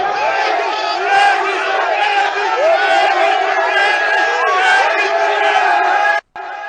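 A large crowd roars and cheers continuously at a political campaign rally in Ngaoundéré, Cameroon, for a Front pour le Salut National du Cameroun candidate, dense and loud throughout before a brief cut near the end.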